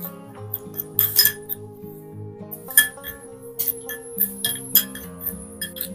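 Aloe vera gel, multani mitti and lemon juice are mixed into a face pack, with repeated light clinks and taps of a spoon against a small glass bowl over soft background music.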